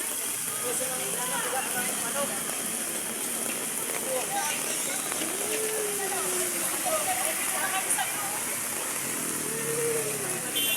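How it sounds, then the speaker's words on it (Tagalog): Heavy rain pours steadily and loudly throughout, a dense unbroken roar on surfaces with no letup. "pag ganitong malakas ang ulan"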